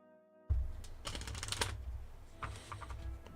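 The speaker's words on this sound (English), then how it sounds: "Final shuffle." Tarot cards being shuffled by hand, a dense run of soft riffling and flicking bursts that carries on steadily at close range with no talking.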